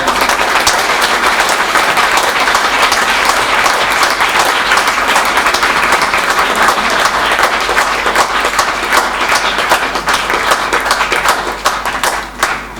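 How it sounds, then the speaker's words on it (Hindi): Loud, sustained applause from a crowd at an event honoring a person who helped prepare a lab, with steady clapping that fills the whole stretch and tapers slightly at the end. "सबसे ज्यादा तालियां इनके लिए बजनी चाहिए"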